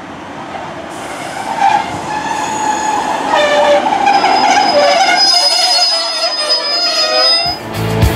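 A passenger train pulls into a station loudly nearby, wheels rumbling and squealing on the rails, with a steady high tone as it slows, then quiets.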